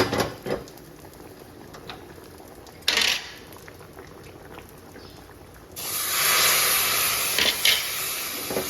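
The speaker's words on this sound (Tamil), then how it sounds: "இப்போ இதை வந்து தாளிப்பு கொட்டிடலாம்" Hot tempering is poured into ridge gourd curry, starting with a brief hiss, then a loud, sustained, close sizzle that continues to the end.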